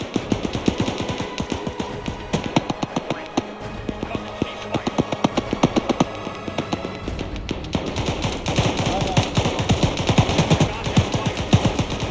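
Vehicle-mounted machine gun firing in Arma 3, rapid sustained bursts of sharp, close, loud shots in a fast rhythm, with brief pauses before the firing resumes and intensifies toward the end.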